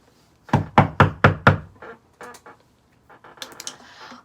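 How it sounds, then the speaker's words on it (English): Five loud, evenly spaced knocks on a bathroom stall door, heard up close, followed by fainter scattered taps and rustling. "Why I hear a knock on the bathroom stall?"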